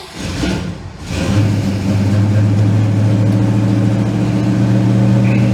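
A car engine with Flowmaster 40 mufflers fires up with no choke after a brief crank, then settles into a steady, loud, rumbling idle close by.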